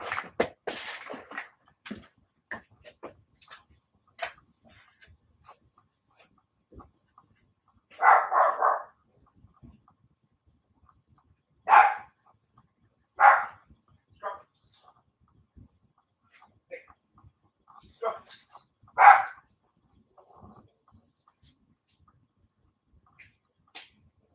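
A dog named Scruffy barks in several sharp, separate bursts spaced out over a quiet stretch, fairly close, with small scattered clicks and movement noises between the barks.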